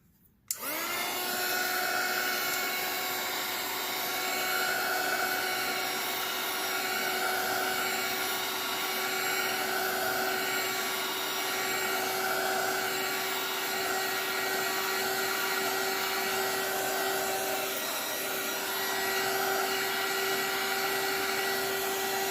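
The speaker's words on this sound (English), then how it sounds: "I'll just take my heat gun just to the side." A heat gun drying a mixed media art background blows a steady, loud whirring hum that starts abruptly and runs on without a break, close by and alone, with no speech.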